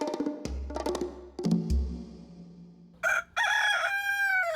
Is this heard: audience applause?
no